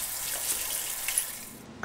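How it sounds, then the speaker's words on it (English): Warm tap water runs steadily into a sink while hands are washed with soap, a continuous close, moderate wash of water with no talk. "Wash your hands thoroughly with soap and warm water and dry them on a clean towel."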